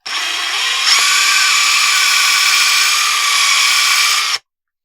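A power drill spins a snap-on pipe-cleaning brush against painted 15mm copper pipe, giving a loud, steady high-pitched whir that holds for about four seconds and then stops abruptly.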